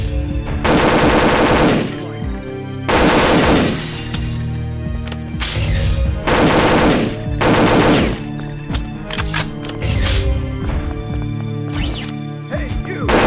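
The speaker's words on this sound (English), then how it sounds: "My favorite sound is definitely the K7 Avenger." K7 Avenger gunfire in the Nintendo 64 game Perfect Dark: loud rapid automatic bursts, several separate volleys with short gaps between them, with game music and effects underneath.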